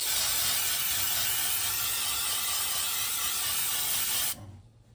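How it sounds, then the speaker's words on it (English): A steady, loud spray of cooking oil onto chicken wings in an air fryer hisses continuously for about four seconds, then cuts off abruptly, leaving quiet room noise. "so we're gonna spray the chicken"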